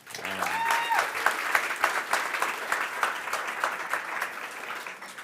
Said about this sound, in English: Let's give a quick round of applause for Henrik and everybody who set this up.